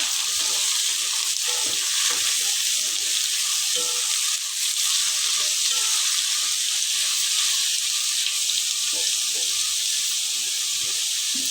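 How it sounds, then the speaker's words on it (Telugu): Ridge gourd curry fries in oil with a dense, continuous hissing sizzle that holds steady and loud throughout, with faint clicks and scrapes beneath it. "ఒక 2 నిమిషాలు నూనెలో ఫ్రై చేసేసుకుందాం"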